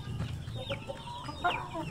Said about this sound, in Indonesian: Intinya di sini ayam punya kegiatan, ayam sibuk mencari makan